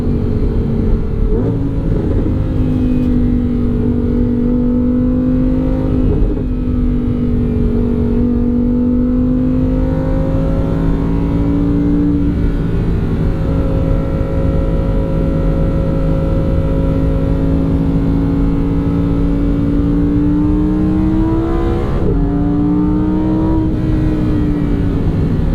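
A 2023 Lamborghini Huracan Sterrato engine pulls hard under acceleration, a loud, continuous rising drone broken by several sharp gear shifts where the pitch drops and climbs again, heard from inside the car.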